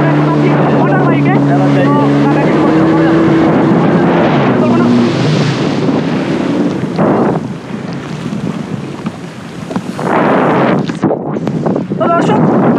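A water bike runs over wavy sea at Cox's Bazar, its engine droning loudly under heavy wind buffeting on the microphone, with a tonal whine rising early and splashing surges later.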